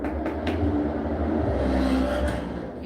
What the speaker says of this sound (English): Here comes a truck or a motorcycle.